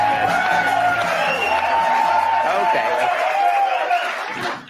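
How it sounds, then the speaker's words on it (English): A studio audience claps and cheers loudly, with whoops and laughter mixed into a dense, sustained roar that fades out at the very end. "Are you clapping for me"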